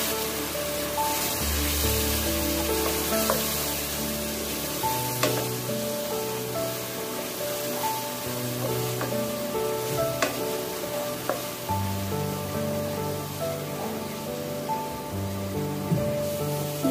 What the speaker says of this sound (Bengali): সামান্য জল দিয়ে ভালো করে সবকিছু কষিয়ে নেব।